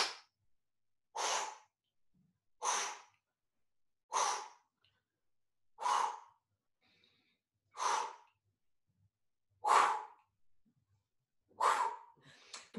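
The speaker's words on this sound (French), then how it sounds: "Inspirer et on va souffler très fort." Strong, forceful exhalations during a breathing exercise, a steady series of about eight loud, close breaths pushed out at regular intervals of roughly one and a half seconds, with silence between them.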